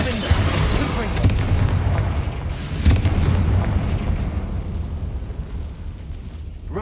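Explosion spells going off in the Hogwarts Legacy video game, a run of loud booming blasts with rumbling low-end over continuous game ambience, spaced across several seconds.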